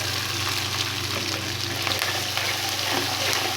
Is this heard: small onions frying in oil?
yes